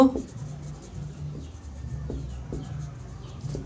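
Marker or chalk strokes scrape across a classroom board during a physics lesson, a series of short rhythmic squeaks and rubs, fairly faint and close.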